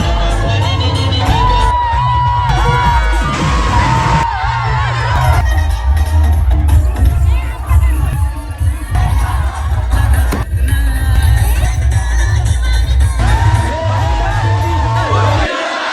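Loud, dense crowd roaring, whooping and shouting during Holi festival celebrations at Apta Koliwada, sustained throughout with overlapping voices and bursts of cheers.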